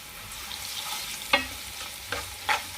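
Ginger paste frying in a pan for Hyderabadi bagara rice with shahi jeera, a low steady sizzle broken by a few sharp stirring clinks and scrapes.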